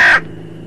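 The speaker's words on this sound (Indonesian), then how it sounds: "Dan burung gagak peliharaanku si Caesar." A single loud, close caw from Caesar, a pet crow, cut short after a fraction of a second and followed by a faint low hum.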